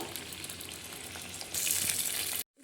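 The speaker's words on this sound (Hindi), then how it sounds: "यहाँ पे ऑयल हमारा गर्म हो गया है। चिकन जो मैंने इसको नमक लगाया था वो मैं इसमें अब ऐड कर लूँगी।" Salted chicken pieces dropped into hot oil for a Peshawari charsi chicken karahi, a steady close sizzle that jumps louder and brighter partway through, then cuts off abruptly near the end.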